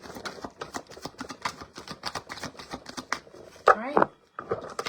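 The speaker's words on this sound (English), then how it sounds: "Last shuffle." Tarot cards shuffled by hand in quick, uneven bursts of papery riffles and taps. The sound stays close, with a brief louder flurry near the end and a short pause before it resumes.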